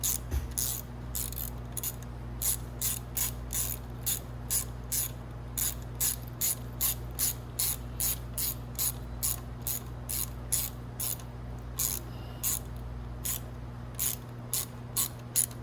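A ratchet wrench clicks rapidly while tightening bolts on the start gear of a Venom X22gt 250cc, with repeated crisp bursts of pawl clicks at close range over a steady low electrical hum.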